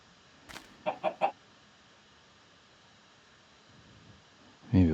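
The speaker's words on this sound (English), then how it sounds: "Chicken?" A Minecraft Alpha v1.0 chicken gives three quick clucks in a row near the start, fairly close, followed by quiet and a brief louder thump at the end.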